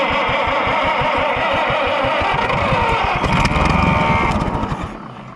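A small gas engine cranks over in a fast, even rhythm after a shot of green-can brake cleaner as starting fluid, loud and close, then sputters and briefly catches before the sound dies away.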